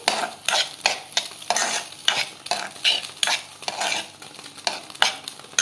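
Onion browning in ghee in a pan, stirred with a utensil. A soft sizzle runs underneath repeated scraping and clinking strokes in an irregular rhythm, close up, with no voices.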